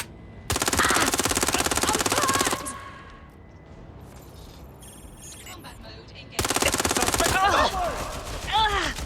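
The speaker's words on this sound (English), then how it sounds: "Providing suppressive fire!" Machine gun fire in Watch Dogs: Legion, two loud sustained automatic bursts, one at the start and one near the end, with quieter game ambience and faint voices between them.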